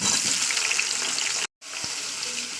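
Eggplant pieces fry steadily in hot oil, a dense continuous sizzle close by, broken once by a brief silent gap before resuming, with no talking.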